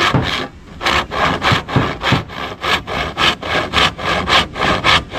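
A handsaw cuts through wood in loud, close, rhythmic strokes, each push and pull a rasping scrape repeating about twice a second with no talk.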